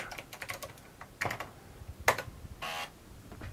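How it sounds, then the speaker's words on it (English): Keys on a Microbyte HC120 computer keyboard are tapped in sparse, irregular clicks with a few sharper strikes and a short burst, heard close and fairly quiet in a still room. "it boots and it runs, and I have a working keyboard."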